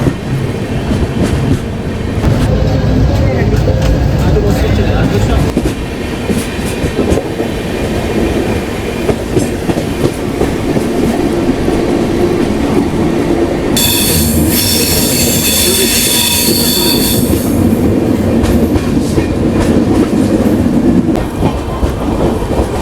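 A Vistadome coach train runs steadily on the Visakhapatnam to Araku line, loud continuous wheel rumble and clatter with a long high metallic squeal of wheels rising partway through.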